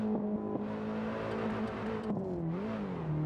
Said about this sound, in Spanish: Uy, que le saco el motor, tú.